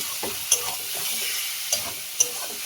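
Spice paste of turmeric, chili powder and salt sizzles in a hot pan, a steady hiss with a few sharp scrapes and clinks of a spoon stirring it.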